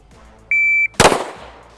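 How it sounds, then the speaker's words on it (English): A single sharp electronic beep from a shot timer at a firearms training range, followed almost immediately by one loud, close handgun shot with a short echoing tail. "as soon as you guys hear the beep from the shot timer, the shot should break"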